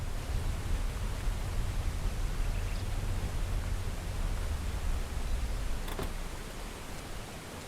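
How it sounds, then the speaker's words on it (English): Waterfall in the video game Lumberjack's Dynasty, a dense, steady broadband rushing roar that fills the scene without break, with a faint soft tick near the end. "It's actually the waterfall."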